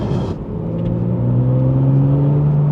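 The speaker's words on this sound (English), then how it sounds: "I love the sound of the flat six in this" A Porsche 991.1 GTS flat-six engine accelerates, a loud, rising drone with a steady rumble and strong engine tones heard from inside the car, with no talking.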